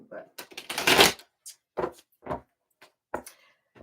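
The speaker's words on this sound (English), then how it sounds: "I'm just shuffling" Tarot cards are shuffled by hand in several short, crisp riffling bursts, the longest near the start, followed by quieter separate flicks.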